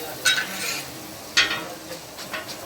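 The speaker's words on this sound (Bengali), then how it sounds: "আলু ভাজা হচ্ছে" Potatoes with poppy seeds fry in a pan at a village picnic, a soft continuous sizzle with two sharp stirring scrapes and lighter spatula clinks toward the end.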